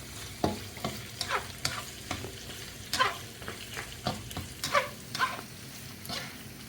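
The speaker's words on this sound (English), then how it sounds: "getting this shrimp, like sort of pre-cook them, and you're softening up the garlic a little bit" Shrimp and garlic sizzle in a hot pan while a utensil stirs and scrapes through them, giving a steady frying hiss broken by repeated clacking strokes, close up and without talk.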